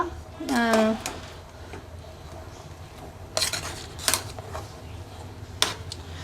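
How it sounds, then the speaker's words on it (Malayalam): Cucumber pachadi with green chilies stirred in a pan over a full flame, with a spoon scraping and clinking against the metal in short bursts, and a brief voice near the start. "നന്നായി ഇളക്കി കൊടുക്കുക"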